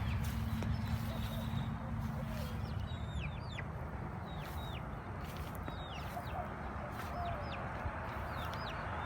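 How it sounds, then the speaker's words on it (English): Young chickens, grown-up baby chicks, clucking and chirping in a garden, with scattered short calls over steady outdoor background noise and a low hum. "see these baby chicks now. They don't look like babies anymore."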